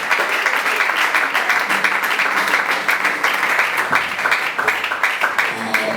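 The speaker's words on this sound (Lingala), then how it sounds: "aplausos para o Senhor." A church congregation applauding, a sustained loud wash of many hands clapping with voices calling out beneath it.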